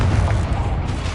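A single deep, rumbling boom from a Confringo spell explosion in the Hogwarts Legacy video game, loud and low for about a second.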